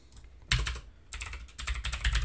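Quick bursts of keystrokes on a computer keyboard while a network command is entered during a lab, close and clear, in three short flurries with brief pauses between.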